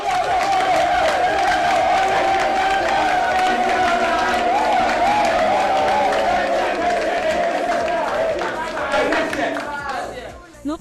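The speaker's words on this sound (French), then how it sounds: "Sur vos acclamations, s'il vous plaît." A crowd cheers and claps for the five final contestants of the Miss Legon beauty pageant, a loud, sustained roar with voices mixed in that fades slightly near the end.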